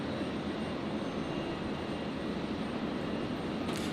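Quad 541 takes off from runway 01 right at Brisbane International Airport, a steady, broad engine roar that holds at constant loudness throughout, with no voices.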